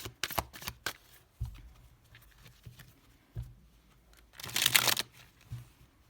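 Tarot cards being shuffled close up, with a few quick riffling bursts and a longer, louder flurry near the end, separated by soft handling noises.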